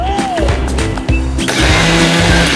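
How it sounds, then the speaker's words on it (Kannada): A kitchen mixer grinder coarsely grinds green chillies, cumin and turmeric into a rough powder, giving a loud, close whirring motor drone with a sharp pitch shift partway through. "ಇದನ್ನೆಲ್ಲನೂ ಕೋಸ್ ಕೋರ್ಸ್ ಪೌಡ್ರಾಗಿ ತರಿತರಿಯಾಗಿ ಮಿಕ್ಸಿ ಮಾಡಿಕೊಳ್ಳೋಣ"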